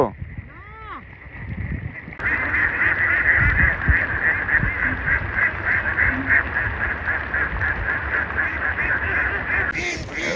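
A large flock of about a thousand ducks at the Chalan Beel wetland in Bangladesh keeps up a loud, dense, continuous chorus of quacking from about two seconds in, after a brief opening with a voice.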